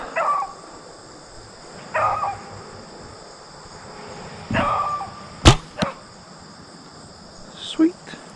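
A dog barking at a distance outdoors during bow-hunting practice, sharp barks in brief bursts amid crickets and insect buzz, with a sudden loud arrow strike mid-clip.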